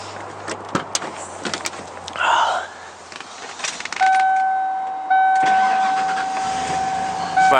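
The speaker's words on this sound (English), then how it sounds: "here we are in our cold start video of our 95 Eddie Bauer Bronco" A cold 1995 Ford Bronco Eddie Bauer engine cranks and fires, then settles into a steady idle. Before the start come a few clicks and a short whirr, and a faint high chime or tone continues through the run.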